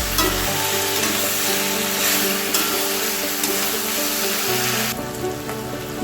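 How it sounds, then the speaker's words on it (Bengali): Chalta fruit tossed with turmeric and salt fries in a pan, producing a loud, continuous, close crackling sizzle that softens slightly near the end. "একটু ভাজা ভাজা করে নেবো"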